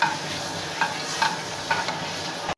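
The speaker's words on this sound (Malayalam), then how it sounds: "ഉഴുന്നും അരിയും കടുകും ഒന്ന് പൊട്ടി വരണം" Mustard seeds, urad dal and rice splutter in hot oil while tempering for a jackfruit thoran, a steady close sizzle broken by a few sharper crackles and pops until it cuts off abruptly near the end.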